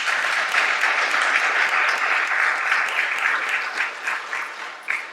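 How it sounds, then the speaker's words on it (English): Steady audience applause at a conference keynote, many hands clapping at once in a continuous wash that thins slightly toward the end. "So big round of applause for the youth."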